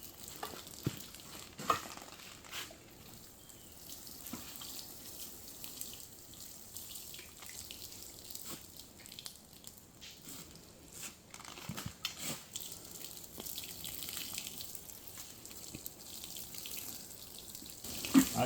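Water pours and hisses steadily onto a lettuce seed bed in a Deep South garden, a soft continuous spray with small splashes and shifts in flow and no talking.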